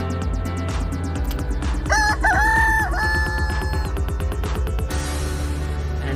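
Cartoon rooster crowing loudly in a long cock-a-doodle-doo, with clucking hens and other farm fowl around it and a busy, rhythmic backing track underneath.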